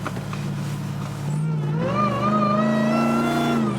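A Dodge Hellcat engine in a Gladiator pickup revs hard under acceleration, its supercharger whine climbing steadily in pitch over a loud, close exhaust drone.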